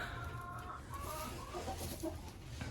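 Two broiler hens in a coop cluck and murmur steadily at close range, low throaty calls overlapping without pause.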